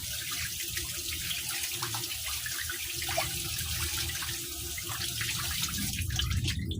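Tap water runs steadily and fairly close while two pets are bathed, a continuous splashing rush with irregular spatters throughout and no talk.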